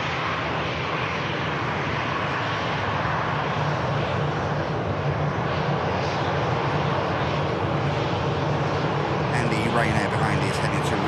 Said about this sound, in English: Bizjet just on the taxi here.